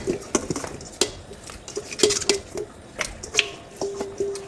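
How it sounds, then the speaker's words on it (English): Chopped onions, ginger, shallots and daikon are tossed into a pot of Phnom Penh noodle soup, giving sharp clinks and taps against the metal pot in an uneven rhythm, close and fairly clear, with faint splashing between hits. "Tossing everything into the soup right now"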